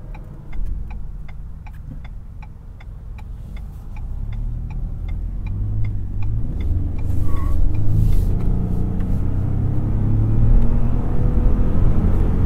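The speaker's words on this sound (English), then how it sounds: "I'll throw it into Sport mode and take off from this light." A 2021 Ford F-150 Hybrid pulls away from a traffic light in Sport mode, its low engine rumble swelling steadily louder under the cabin while a turn-signal ticks evenly at first.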